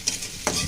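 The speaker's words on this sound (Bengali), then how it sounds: "শুটকিটা আমি দিয়ে দিই। একটু তেলের সাথে ভাজা হয়ে যাবো।" Dried fish fries in a little oil in a pan, giving a short burst of sizzling with a louder crackling flare near the end. The clip is brief, close and has no speech.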